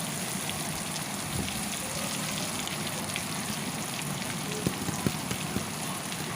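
Chopped onions sizzle in hot oil in a pan for an Indian-style egg pasta, a steady close crackle and hiss with a few louder pops, no talking.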